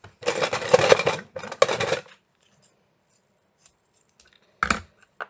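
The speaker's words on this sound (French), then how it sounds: "Ciseaux." Scissors cut during mini album paper crafting: a quick run of close, crisp snips, a short pause and two more cuts, then quiet before one last brief snip.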